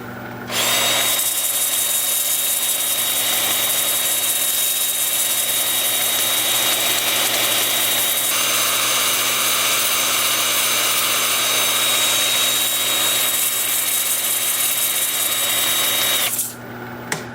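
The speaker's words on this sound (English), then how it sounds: "And then with the lathe spinning in reverse at about 350." A steady, loud machine whir of a wood lathe spinning in reverse at about 350 rpm, running continuously for most of the clip, with a high tonal hum and no talking.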